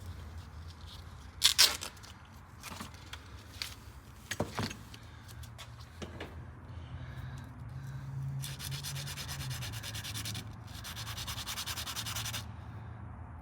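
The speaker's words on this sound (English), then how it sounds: "Should we hit it with sandpaper?" Sandpaper rubbed against a shiny object with a brass part, found in a modified Dodge Challenger Hellcat: a few sharp scraping strokes early on, then a long, steady, fairly close stretch of sanding.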